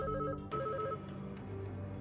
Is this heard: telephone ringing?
yes